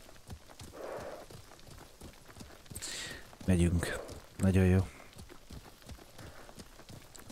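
Horses trotting in the samurai game Ghost of Tsushima, hooves clip-clopping in a steady rhythm with a couple of louder bursts, while someone talks over the galloping.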